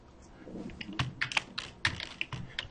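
Rapid, irregular clatter of keys on a computer keyboard, close and fairly loud, with bursts of strokes and brief pauses, no voices.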